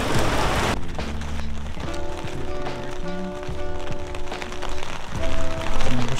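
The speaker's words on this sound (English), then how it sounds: "I don't even care if it's raining." Steady rain falling on a street in Kyoto, a continuous hiss that starts loud and carries on under faint music and street noise.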